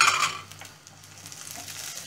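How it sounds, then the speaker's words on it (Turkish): Pre-soaked, rinsed rice toasts in a pan for hamsili pilav, giving a short, soft sizzle with light stirring scrapes that fade to a quieter hiss, no speech. "Şimdi biraz da pirinç de kavrulurlar."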